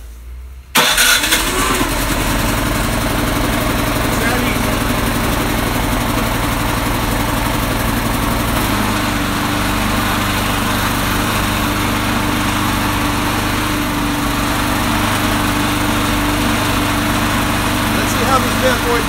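A Craftsman 208cc snowblower engine with electric start fires up after a brief start and settles into a loud, steady high-revving run close by, with a slight change in pitch partway through.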